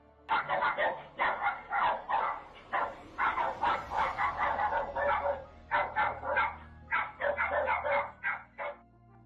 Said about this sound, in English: but the barking sound still echoed.